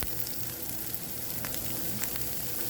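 Butter sizzles steadily on a hot camp cooking surface while shrimp and pork teriyaki are prepared outdoors; a continuous, fairly close frying hiss with small pops and crackles, and no talk.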